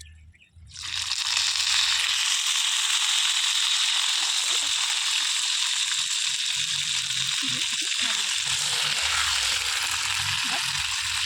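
Mutton dropped into hot oil with whole garam masala, cumin and bay leaf, giving a loud, steady, close sizzle that begins abruptly and continues unbroken, with faint low clatter beneath.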